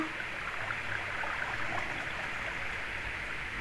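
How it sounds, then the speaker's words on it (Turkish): Ocean water in Minecraft, heard with the player underwater: a soft, steady rushing wash that stays even and quiet throughout, with no talking. "şu anda direkt okyanusun içindeyim ben."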